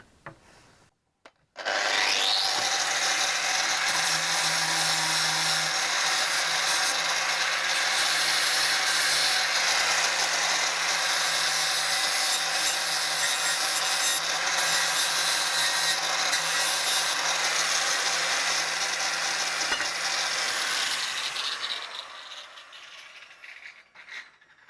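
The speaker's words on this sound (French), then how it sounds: "je vais donc passer un petit coup de disque ici à la lamelle. Donc c'est un disque abrasif qui va retirer toute la peinture" An angle grinder with a flap disc strips paint from a steel part for a homemade clamp, giving a loud, continuous abrasive whine and rasp for about twenty seconds before spinning down.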